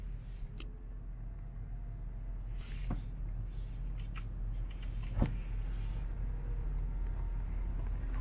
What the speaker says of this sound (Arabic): الستارة الخلفية، تحكم كهربائي، شوفوا